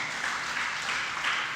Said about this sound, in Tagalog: Palakpak muli sa Panginoon.